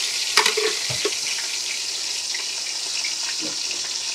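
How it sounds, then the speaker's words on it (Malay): Shrimp paste (belacan) sizzles in a hot pan while being stir-fried, a steady crackling hiss with a few scraping clinks of the spatula near the start. "sekarang kita tumis"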